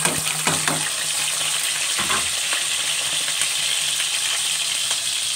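Onions fry in hot oil in a kadai for chicken pulao, giving a close, loud, steady sizzle with occasional stirring clatter throughout.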